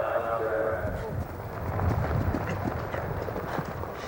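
Show-jumping horse galloping on an arena course at Spruce Meadows, hoofbeats drumming steadily under continuous commentary.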